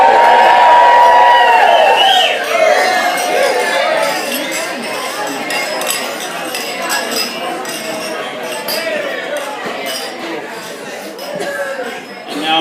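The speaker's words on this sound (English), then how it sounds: "So let's all raise our glasses and give a big Roach Harbor cheers to Blake and Natalie." Glasses clink repeatedly at a wedding reception toast while the crowd cheers and chatters, a loud burst of cheering at first settling into steady lively clinking and voices.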